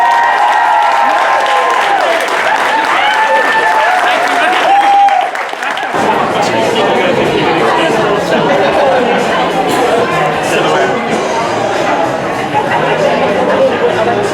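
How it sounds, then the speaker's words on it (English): Wedding guests break into applause, a full roomful of clapping and some cheers that swells after a voice speaks over a microphone, then carries on steadily close by. "give them a massive round of applause"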